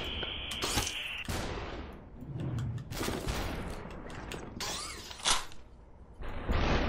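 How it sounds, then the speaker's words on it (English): Gunshots from the video game Superhot ring out as several sharp bursts over a dense, noisy game soundtrack, loud and close, with mechanical clatter between the shots. "I need to know how many shots I've got here."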